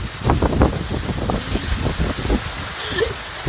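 Steady typhoon rain with gusting wind, a dense broadband wash with soft patters throughout, loud and close, no voices.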